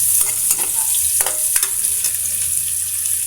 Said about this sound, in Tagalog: Ayan, lumabas na ang aroma ng ating sibuyas at saka bawang. Ayan, haluin na natin.